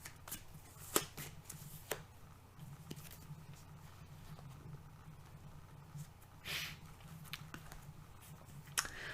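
Tarot cards shuffled and drawn from a deck, with soft papery riffles and a few sharper snaps and slaps spread across a quiet room, faint and close, no talking.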